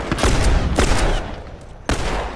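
Heavy gunfire in The Last of Us multiplayer: loud, dense bursts of shots in three clusters, the first two close together, then a pause and a final sharp burst near the end.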